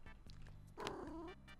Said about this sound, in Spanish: Ahí está el gato, hijo.